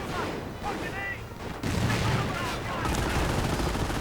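PIAT anti-tank weapons fire on a Panzer IV during a battle in a war video game, heard as a dense run of loud gunfire and explosive blasts that continues without a break and grows heavier partway through.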